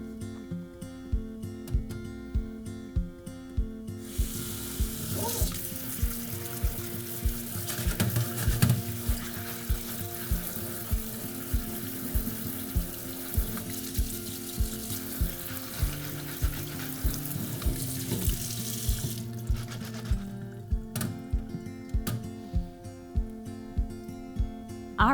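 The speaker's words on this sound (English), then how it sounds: "I'm going to rinse these off and then put them right into the bowl that they'll go in the microwave in." Potatoes are rinsed under a running kitchen sink tap: a steady broadband rush of water for about fifteen seconds, with light knocks and clatter of the potatoes against each other and the sink before and after, close by and without talk.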